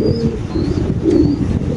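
Grizzle fancy pigeons coo at close range, a soft, low, throaty rolling call that repeats steadily over a brief stretch with no voices.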